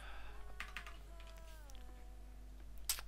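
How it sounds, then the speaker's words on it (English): Someone types on a computer keyboard, giving soft, sparse, intermittent key taps heard close but quiet, with a faint tonal hum and no speech. "Just have to type some more."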